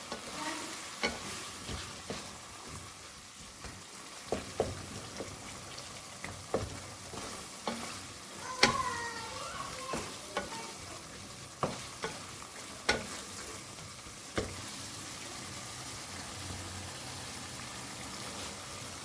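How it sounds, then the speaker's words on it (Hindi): Liver (kaleji) fries in ghee with a quiet, constant sizzle while a spoon scrapes and knocks against the pan at a regular pace, roughly every second, with no one talking. "अब इसको अच्छी तरह 1 से 2 मिनट भून लेते हैं।"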